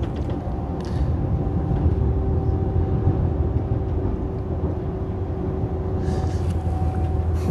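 A steady low rumble and hum like a moving train carriage, with a faint sustained tone and occasional soft clicks, constant throughout.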